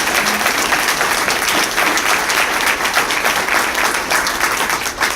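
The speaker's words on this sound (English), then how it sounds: "So one more round of applause for those business leaders." Sustained audience applause for business leaders at a business awards event, loud, dense clapping from a large room that carries on evenly for several seconds.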